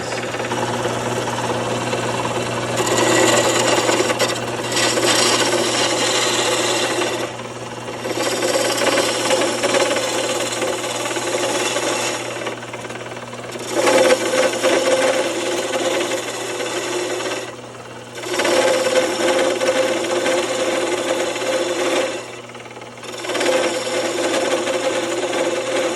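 Wood is shaped on a lathe while the taper of a wooden spurtle is turned, giving a loud, rough scraping and rasping in several long passes broken by brief pauses.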